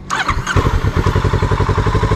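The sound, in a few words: motorcycle engine starting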